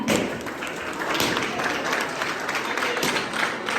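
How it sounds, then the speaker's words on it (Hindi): Loud, steady applause with dense clapping fills the room throughout, honouring a prize winner at a computer fundamentals exam award event held by an education centre. "प्राइज दिया जाता है उसके लिए जोरदार तालियां।"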